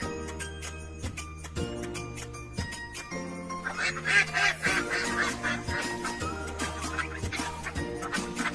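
Repeated quacks of a duck ring out over rhythmic music with a steady beat and tinkling notes.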